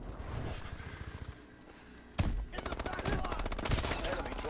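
Rapid automatic gunfire from a Call of Duty match, bursts of shots fired at walls, loud and close, with a short lull before a sharp burst and sustained rattling fire.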